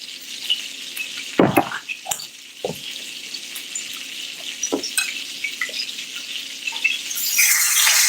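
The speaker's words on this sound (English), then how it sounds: "Oh yeah, that's a nice sear." Meat sears in a hot pan with a steady sizzle, broken by a few sharp clanks and scrapes of utensils against the pan.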